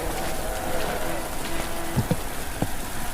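Steady rain pattering within a horror video game, a continuous hiss with a few dull thuds near the end.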